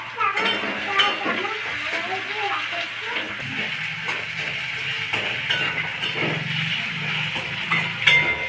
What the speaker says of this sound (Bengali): আমি এখন তেলের মধ্যে কালো জিরে দেবো